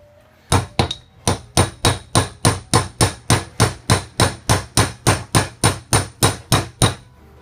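Hammer tapping a cold chisel to drive a spline into the groove of a parlour style chair seat during re-caning: about twenty crisp, evenly spaced close strikes in a steady rhythm, with no talk.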